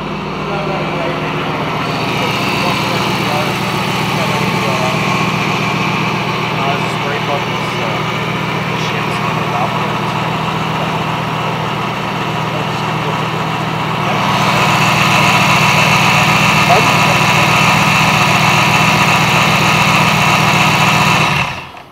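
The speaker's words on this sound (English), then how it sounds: "But at least we got it running, it's idling." Supercharged V8 in an Aston Martin Vantage idling in a steady, rumbling drone, close and loud throughout, with the idle rising and thickening about two-thirds of the way through.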